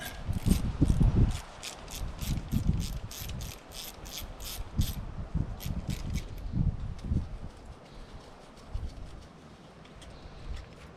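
A ratchet loosens a 10mm bolt near the plenum of a Nissan Murano engine, a series of sharp, fast clicking bursts up close with short pauses and clunks of the tool between strokes.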